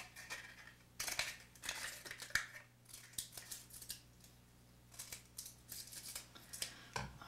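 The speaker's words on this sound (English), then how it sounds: "Just start snipping little triangles around the edge here." Scissors snip little triangles around the edge of a paper cupcake liner in a steady run of quick, close, crisp cuts, with brief pauses and no talking.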